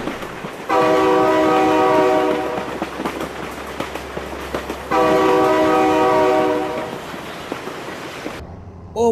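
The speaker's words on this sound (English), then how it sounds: "Oh my god, train!" A video-game train sounds its horn as it approaches, two long blaring blasts separated by a short gap, loud and close, over a continuous rumble and clatter of rolling rail cars.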